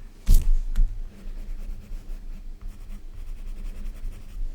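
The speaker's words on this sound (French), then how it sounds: "Il y a juste que je vais gommer juste ça." An eraser rubs out a pencil drawing of a lemur on paper: a sharp scrape at the start, then soft, irregular rubbing strokes that continue close and moderately quiet, with no speech.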